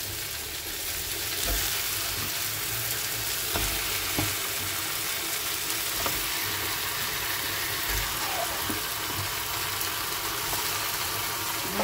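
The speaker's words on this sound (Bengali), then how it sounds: "এদিকে আমি ধুয়ে রাখা চিকেনগুলো পেঁয়াজের মধ্যে দিয়ে দেবো ভাজা ভাজা হতে" Chicken pieces frying with onions in a pan give a steady, close sizzle with occasional stirring clicks and scrapes throughout, and nobody speaks.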